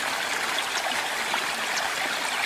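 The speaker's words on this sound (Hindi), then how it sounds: "तो ये पहाड़ों से आता हुआ शुद्ध मिनरल वाटर है।" Mountain stream water flowing steadily, a continuous close hiss and babble of running water with no other sounds.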